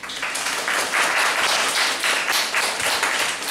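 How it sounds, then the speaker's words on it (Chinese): An audience at a talk breaks into applause to welcome a speaker, a dense, steady burst of many hands clapping at once, loud and close, with no talk over it. "那我就掌声欢迎梁总。"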